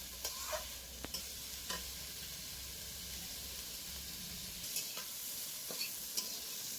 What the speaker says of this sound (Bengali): সব কিছু ভালো করে হালকা নাড়াচাড়া করে নেব।